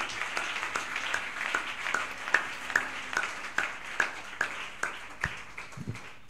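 A church congregation claps for the Lord in a steady rhythmic beat, about a dozen crisp claps at an even pace under a murmur of crowd noise, ending with a low thump.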